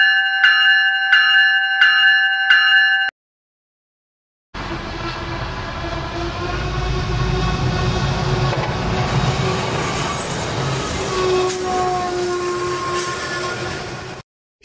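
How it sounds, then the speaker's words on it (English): A train's bell in a video game clangs in four rapid, evenly spaced rings, then after a brief silence a rumbling rail noise with a sustained whistle-like tone runs steadily to the end. "how the heck do I shut off this annoying bell?"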